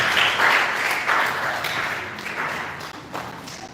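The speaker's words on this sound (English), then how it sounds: "Let us clap as he comes up to the stage" An audience claps steadily as a guest walks up to the stage at a mental health awareness foundation event, a continuous wash of applause that gradually softens with a few sharper claps near the end.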